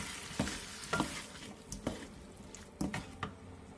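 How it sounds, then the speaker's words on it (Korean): Spicy pork with onion stir-fries in a pan, with a soft sizzle and several rhythmic scraping stirs, close and quiet, with no talking. "고기가 다 익었으면 들기름과 청양고추, 대파, 통깨를 넣고 가볍게 더 볶아주세요."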